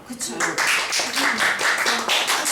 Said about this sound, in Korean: 진짜 박수를 보내드리고 싶어요